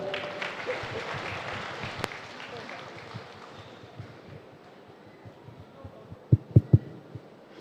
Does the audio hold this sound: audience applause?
yes